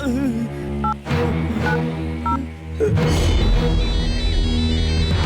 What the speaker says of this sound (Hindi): लगाओ धनुआ को फोन